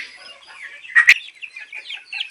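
Native chickens cluck at a poultry seller's stall, soft scattered clucks and chirps with one brief louder squawk in the middle, heard up close.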